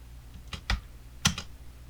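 Two quick pairs of computer keyboard key presses, the Home key followed by the spacebar, close and crisp clicks in a quiet room with no talking.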